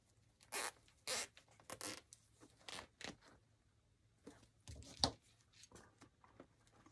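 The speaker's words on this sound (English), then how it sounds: "So I'm going to zip tie this." A plastic zip tie is ratcheted shut while fastening a colorful bow onto a fall swag, giving a series of short, close zipping bursts separated by quiet gaps.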